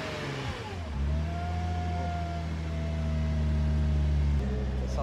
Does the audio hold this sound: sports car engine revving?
yes